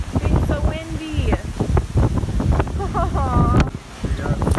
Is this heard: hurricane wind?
yes